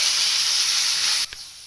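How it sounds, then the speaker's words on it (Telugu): Coriander, fenugreek leaves and green chillies fry in hot oil with a loud, steady, hissing sizzle that cuts off abruptly after about a second. "మన కొత్తిమీర మెంతి పచ్చిమిర్చి అండి ఫ్రై అవుతుంది"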